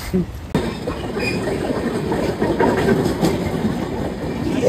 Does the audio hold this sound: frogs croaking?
no